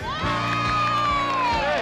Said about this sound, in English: Oh, and look, the Yoshi family's cheering them on.